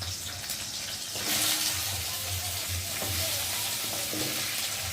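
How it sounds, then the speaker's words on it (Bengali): Steady loud sizzling of mixed vegetables frying in a hot kadai, with stirring scrapes and no talking. "কড়াটা ভালোভাবেই গরম হয়ে গেছে, আর এখন আমি সবজিগুলো দিয়ে দেবো"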